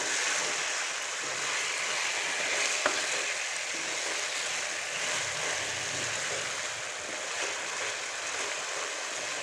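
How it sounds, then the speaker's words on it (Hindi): Chicken for a restaurant-style jalfrezi fries over a high flame, giving a steady, dense sizzle that stays even and close for the whole stretch, with no talking. "अब इसको फ्राई करेंगे, हाई फ्लेम पे इसे फ्राई करना।"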